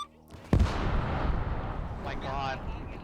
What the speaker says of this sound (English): I believe you're currently getting artilleried.